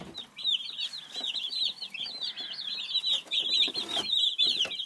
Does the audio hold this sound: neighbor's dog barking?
no